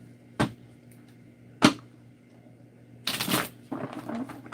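Tarot cards being shuffled by hand, two sharp isolated riffle snaps followed by a longer burst of rapid card flutter, close and clear with no talking.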